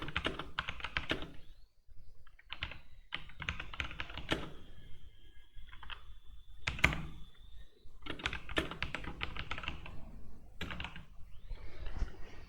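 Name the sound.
typing code on computer keyboard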